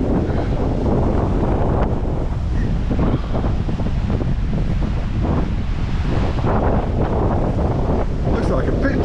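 Waves crash along the Paphos coastline, a loud, continuous broadband roar of surf with surges and gusts of wind buffeting the microphone throughout, close and unbroken.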